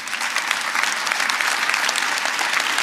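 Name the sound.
audience applause at State of the City address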